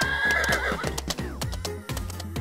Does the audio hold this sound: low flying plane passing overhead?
no